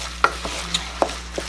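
Ground meat browning for chili in a pan, stirred with a utensil that gives a few soft, spaced scrapes and taps, fairly quiet over a low steady background hum.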